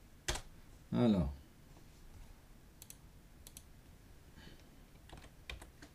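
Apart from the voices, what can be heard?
typing text on a computer keyboard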